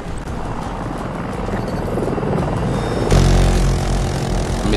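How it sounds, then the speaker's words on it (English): Jet aircraft engine roar in the video game Battlefield 2042, a loud steady rumbling drone that swells and grows heavier partway through, with no talk. "Let me see what this jet's doing."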